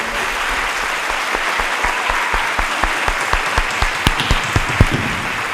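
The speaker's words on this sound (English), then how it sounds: "So I'd like to give a special round of applause and thank you to all of our families that are here today." Audience applause for families at an 8th grade moving up ceremony, a sustained steady clapping from a seated crowd with distinct individual claps standing out nearby, building slightly toward the end.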